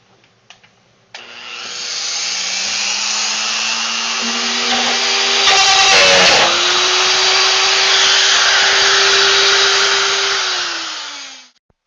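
A rotozip spins up with a sharp start and whines steadily as it cuts a roughly 3.5-inch hole in a plastic barrel, loud and close, with a brief grinding bite midway before it winds down.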